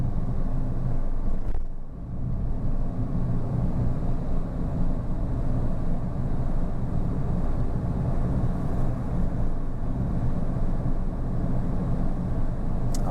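A car's engine drones steadily from inside the cabin while it accelerates in third gear on a driving lesson, a continuous low rumble with road and wind noise, no talking.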